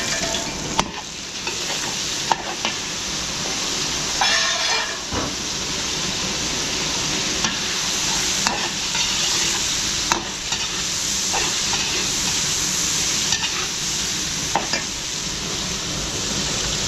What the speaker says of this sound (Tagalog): tostahin lang natin ng konti yung ating bawang sibuyas mga Beli